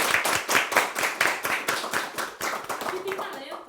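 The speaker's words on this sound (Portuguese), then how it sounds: "Então uma salva de palmas a todos vocês." An audience claps in a clear, fairly quick rhythm, the individual claps distinct and evenly spaced, then the clapping thins and fades toward the end of the short burst.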